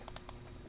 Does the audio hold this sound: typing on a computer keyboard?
yes